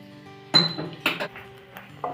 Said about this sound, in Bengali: এবার খুন্তির সাহায্যে আমি অল্প একটু নেড়ে দিচ্ছি, যাতে লবণ এবং চিনি ভালো করে মিশে যায়